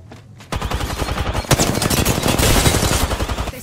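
Dense automatic gunfire from the Apex Legends video game, a rapid loud burst after a brief quiet start, continuous to the end with a sharp blast near the middle.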